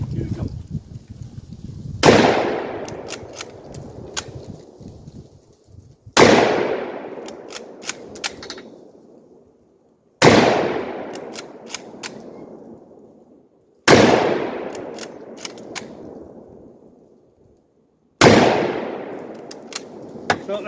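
Five loud rifle shots from a Mosin Nagant and an AR-10, fired from a bench at mild steel targets outdoors, each a sharp crack followed by a long decaying echo, spaced about four seconds apart.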